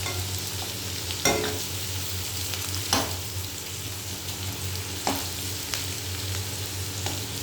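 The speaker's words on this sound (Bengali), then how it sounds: "আর একটু ভাজা হতে দেবো।" Food frying in a pan gives a continuous close crackling sizzle, broken every couple of seconds by sharp scraping knocks of a spatula stirring, with no voices.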